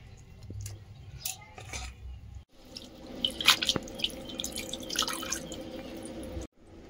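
Pui shak (Malabar spinach) is washed by hand in water, giving soft splashes, drips and trickles close up at a quiet level, with a brief pause midway.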